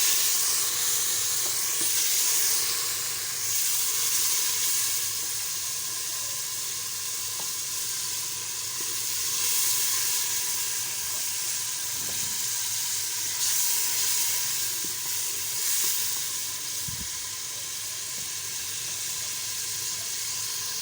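Masala with salt, chillies and turmeric sizzling and hissing in a pot after water is added for daal, a continuous close, bubbling sizzle with faint stirring, no voices.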